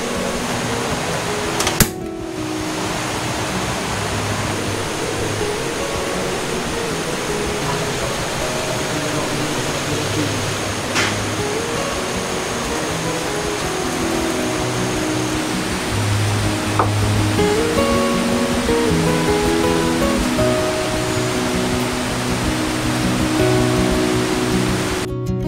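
Heavy, nonstop rain pours down on a hammock campsite at Camp Payapa during a low-pressure storm, a dense steady hiss that holds for the whole stretch with no voices.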